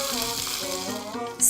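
Potato and shrimp galettes frying in a pan, a close, steady sizzle that continues throughout, with a brief sharper spatter at the end.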